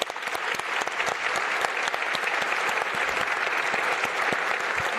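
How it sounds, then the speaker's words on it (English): Applause from a conference audience for a panel at a progressive political summit, dense continuous clapping from many hands, fairly loud and even throughout with no speech over it. "a round of applause for our panelists."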